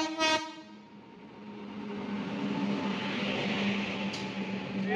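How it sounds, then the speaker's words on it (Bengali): Kolkata–Silghat Town Kaziranga Express pulling into Malda Town station: a short horn blast opens, then the rising rumble and rail noise of the arriving train builds steadily, fairly faint and without talk. "ট্রেনটা আমাদের ঢুকে গেল"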